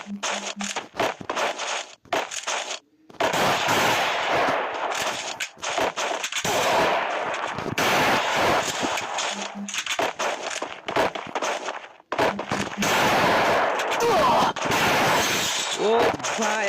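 Rapid bursts of gunfire from the Free Fire video game crackle almost continuously over busy game audio, loud and close, with brief gaps between volleys.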